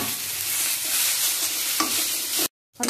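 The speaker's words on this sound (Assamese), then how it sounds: "ধুনীয়াকৈ ৰঙৰ ওচৰতে আলুখিনি ভাজি লৈছোঁ" Potatoes fry in a pan with turmeric and chili powder for an egg curry with pumpkin seeds, a steady close sizzle with stirring scrapes that cuts out abruptly near the end and briefly resumes.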